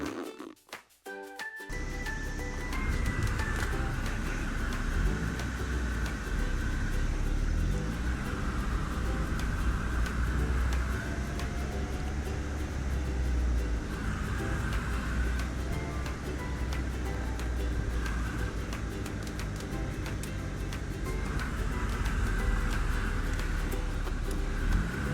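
A Mazda Miata on a test drive after a tune-up, with a steady engine drone and road noise from inside the car. The sound runs unbroken at moderate loudness after a few opening bumps, and nobody speaks.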